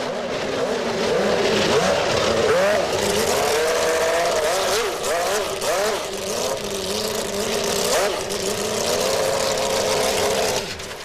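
A pair of 1993 Williams FW15C Renault Formula One cars return to the garage after a single test lap, their loud high-revving engines wailing and shifting continuously up close, with a commentator speaking faintly underneath.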